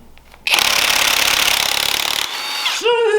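A heavy impact wrench with an impact socket breaks loose a tight bolt on a Honda K24 engine job, in a loud, close, continuous hammering burst of about two seconds before the rattle trails into a fading whine.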